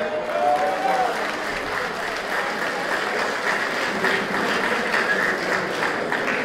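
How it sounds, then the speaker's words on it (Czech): A crowd at a high school graduation ball in Tachov, Czech Republic, applauds the parents steadily, dense clapping filling the room for several seconds without letting up. "Takže můžu poprosit potlesk pro rodiče."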